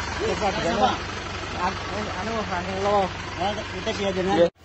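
An Isuzu Panther engine with blow-by runs at a steady, rough idle nearby, faint and mostly buried under someone talking throughout.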